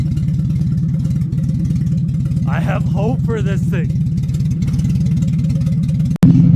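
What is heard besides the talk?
small dually pickup truck engine revving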